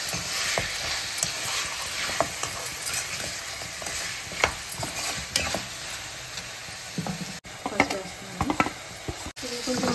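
Mutton sizzling in a pan of masala for a Telugu mutton and chana dal curry, continuous close frying hiss broken by frequent spoon scrapes and stirring knocks, with no one speaking.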